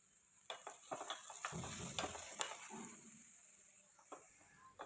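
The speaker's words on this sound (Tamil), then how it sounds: "ஒரு பிஞ்ச் அளவுக்கு உப்பு சேர்த்து நெய்யிலே நல்லா வதக்கி எடுக்கலாம்" Grated carrot is sautéed in ghee with a pinch of salt, giving a soft, low sizzle broken by a few light scrapes and taps of a stirring spoon against the pan.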